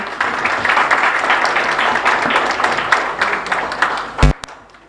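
Applause from a congregation during the offertory at a Catholic Mass in a chapel, a full wash of clapping that holds steady, then a sharp loud knock near the end before fading out.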